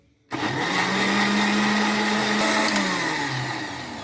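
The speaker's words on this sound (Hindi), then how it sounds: "तो इसको अब मैं दोबारा से ग्राइंड करने लगा हूँ" A blender grinds red chilli sauce in a steady, loud whirring drone that starts abruptly and holds with a slight pitch dip near the end, with no talking.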